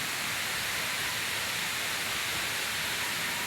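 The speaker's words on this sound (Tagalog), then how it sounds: "At dito lahat ng tubig bumabagsak." Water pours steadily down into a low-lying, flood-prone spot beside houses, a constant broad rushing hiss with no pauses and no voices.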